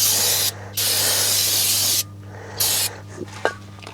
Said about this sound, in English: spray all this down